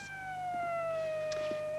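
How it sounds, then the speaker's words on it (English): A fire engine siren played from a sound-effects cassette wails in a steady, slowly falling tone, thin and somewhat distant, with faint background knocks and no talking. "Is it the fire engine?"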